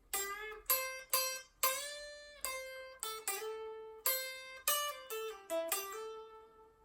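A guitar plays a pentatonic lick from the solo, a quick run of plucked notes with bends and slides, bright and alone.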